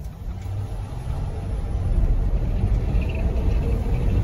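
Electric Peterbilt 220EV truck accelerating hard, a steady low rumble building in loudness partway through, with a faint high whine rising near the end and no voices.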